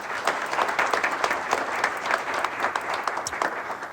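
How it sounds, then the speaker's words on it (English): A crowd at the East Brunswick Township Council reorganization meeting applauds an invocation speaker: loud, close, continuous clapping from many people throughout, with no talking on top. "please give him a round of applause"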